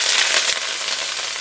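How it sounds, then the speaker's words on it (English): Bitter melon stir-frying in plenty of hot oil makes a loud, close, continuous crackling sizzle, with no voices over it. "So when you fry the bitter melon, you have to add on a lot of oil."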